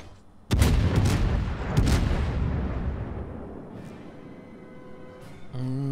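A battleship's main guns fire a salvo in a naval combat game, two heavy booming blasts close together that roll away into a long fading rumble, with a faint tone rising at the end.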